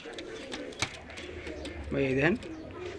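Pakistani high-flying teddy pigeons in a loft, with one clear rising coo standing out in the middle and softer bird sounds and faint background voices around it.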